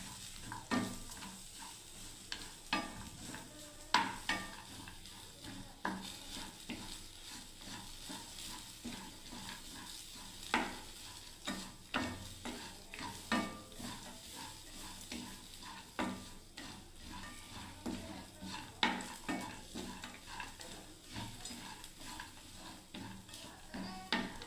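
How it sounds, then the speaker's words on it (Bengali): Coriander seeds, almonds and cashews are dry-fried in a wok and stirred repeatedly, soft scraping strokes and faint crackles recurring every second or so at low volume. "আমি সব এগুলো বন্ধুরা একটু ভালো করে ভেজে নিচ্ছি বন্ধুরা"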